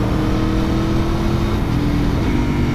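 A Superduke or Tuono motorcycle accelerating hard on the Autobahn, its engine roaring loud and close with a quickshifter upshift that briefly dips the note before it pulls on, all under heavy wind rush.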